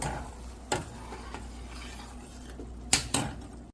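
A spoon scrapes and clinks against a pan a few times over a soft, steady bubbling sizzle of melted butter being cooked down into ghee.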